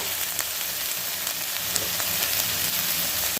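Potatoes fry with chopped eggplant in a pan, a dense, continuous crackling sizzle with scattered sharper pops throughout, close and steady until it cuts off abruptly at the end.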